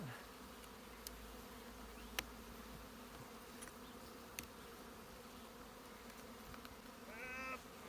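Honeybees buzz steadily and faintly around an open hive during an acacia honey harvest, a low continuous drone with a few sharp clicks and a brief louder rise near the end.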